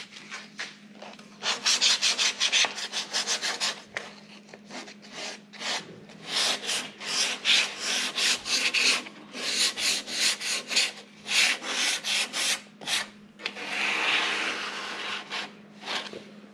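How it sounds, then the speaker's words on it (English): Sandpaper is drawn by hand over a wooden slip-in window casing in an off-grid cabin, a light sanding after the first coat of finish. Close, rhythmic rasping strokes come in bursts separated by short pauses. "So I'm just going to give it a light sanding just to knock down the rough edges."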